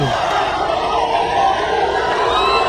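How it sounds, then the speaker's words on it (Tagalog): Boxing crowd at a professional fight, loud and continuous with a roar of shouting, yelling and jeering voices filling the whole arena, no single speaker standing out. "The crowd."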